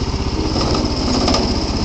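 A Bolens garden tractor's small engine runs steadily and close by, with a fast, even putter that stays constant throughout.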